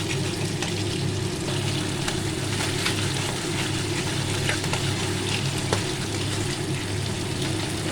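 Spice paste with salt and turmeric sautés in a pan for pabda fish curry, making a continuous, even sizzle and bubbling with a few faint stirring clicks.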